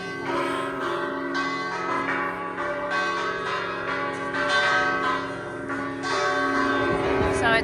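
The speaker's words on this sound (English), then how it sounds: "That's why the bells are going off on the church." Church bells ring out at noon from Siena Cathedral in Italy, a dense, sustained peal with strong overlapping tones and shimmering overtones, loud and close, continuing throughout with faint background voices.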